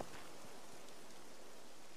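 Rain in the video game The Witcher 2, a steady dense hiss of falling drops with no breaks, soft and even across the whole stretch.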